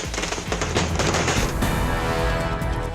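Dense, continuous crackling and popping of fireworks at an outdoor BJP victory celebration, loud and close with overlapping bursts and no break.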